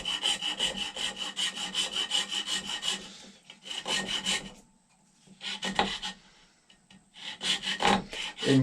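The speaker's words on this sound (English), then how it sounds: "what I want to do is take a hacksaw" A hacksaw cuts carefully into a powder horn with quick rhythmic rasping strokes in close bursts, separated by short silent pauses as the blade is repositioned.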